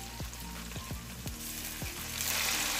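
Onions already well fried in a hot pan hiss and sizzle as a little water is added. A few sharp clinks ring out early, and the sizzling swells louder and steadier toward the end.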